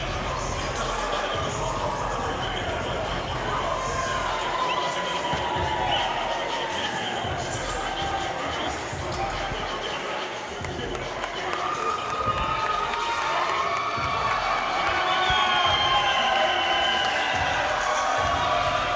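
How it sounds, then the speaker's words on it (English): Boxing crowd at York Hall roaring and cheering wildly after a six-round stoppage in a WBC Silver title bout, a dense, loud, sustained wash of voices and whoops with some talk mixed in. "the crowd are going absolutely wild here at York Hall"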